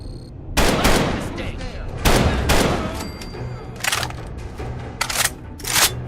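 Heavy-recoil gun in the Fallout video game fires several loud, close bursts at irregular intervals, each sharp report trailing into a brief rattle, with quieter gameplay sounds between shots.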